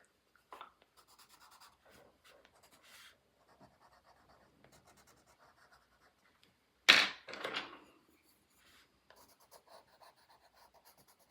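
An IKEA colored pencil scratches across paper in soft, intermittent strokes, with one louder burst of rubbing midway, alone in a quiet room.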